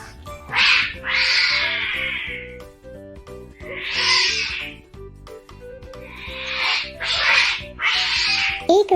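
A cat meows in several loud, drawn-out calls spaced irregularly across the stretch, some paired in quick succession, close and clear over a faint rhythmic backing.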